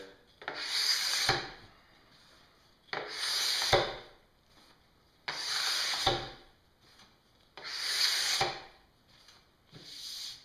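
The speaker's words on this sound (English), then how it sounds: "You scrape the board, now you're ready to clean it up" A scraper is drawn along a snowboard base to strip off wax, making five rhythmic rasping strokes, each a couple of seconds long and separated by short pauses, close up and fairly quiet.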